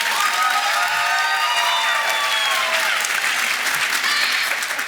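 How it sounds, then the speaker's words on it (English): Enthusiastic audience applause and cheering for a cast returning to the stage after a theatre performance, dense clapping with whoops and shouts throughout. "Give them a round of applause."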